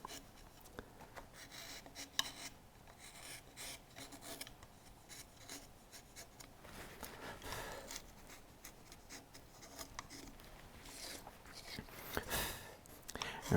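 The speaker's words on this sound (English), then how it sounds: "And using this flat gouge, or semi-flat gouge, to clean up the surface of the wood." A semi-flat gouge scrapes and pares the surface of a wooden Christmas tree ornament in steady, rasping strokes, close and quiet, repeating with brief pauses.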